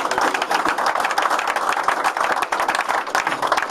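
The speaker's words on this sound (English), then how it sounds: "I think we need to give another round of applause to the Hornets organization" Sustained applause from a press-conference audience honoring the Hornets organization, dense steady clapping filling the whole stretch at even loudness, with no voices on top.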